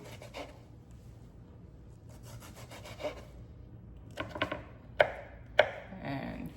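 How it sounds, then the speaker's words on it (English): A knife chops a tomato on a cutting board, giving soft, scattered scraping cuts followed by a few sharp, distinct knocks of the blade against the wood close up, with no talking. "Always go back in, chop it smaller."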